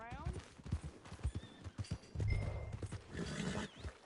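Horse hooves clip-clop in a Western open-world video game on PS4, a run of light rhythmic beats under steady male dialogue, with a brief louder rumble partway through.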